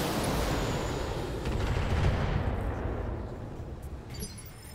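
Heavy mech weapon fire in Battletech rumbles as a continuous, loud, booming roar that swells and slowly fades over several seconds.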